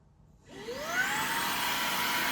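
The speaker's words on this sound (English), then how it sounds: "It has that nice motor sound. It's not super obnoxious, but you know, sounds like a vacuum cleaner." A Fanttik V10 Apex cordless vacuum cleaner motor switches on and spins up with a rising whine, then settles into a steady, fairly loud whir.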